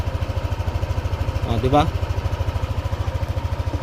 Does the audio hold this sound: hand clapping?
no